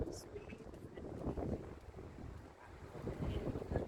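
Strong wind buffets the microphone outdoors in Richmond, a low rumbling gusty roar that swells and dips throughout, with faint voices underneath.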